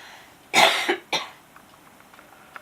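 Two short, harsh coughs close to the mic, the first longer and raspier, then a quiet room.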